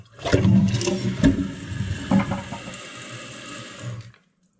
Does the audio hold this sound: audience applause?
no